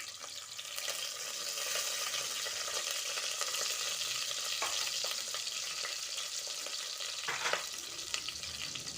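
Onion, green chillies and pandan leaves frying for a Sri Lankan beef kaliya curry, a dense continuous sizzle with a couple of brief clinks of stirring near the end, close and without talk.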